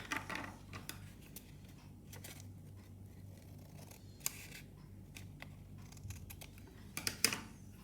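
Scissors snip through paper to cut out a paper triangle for a geometry model: a handful of sharp, close crisp cuts and rustles over quiet background, with no voices.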